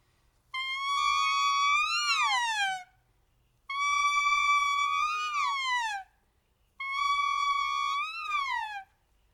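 A person imitates an eagle call with three long, steady, piercing cries that each end in a wavering, falling screech, with brief silences between them.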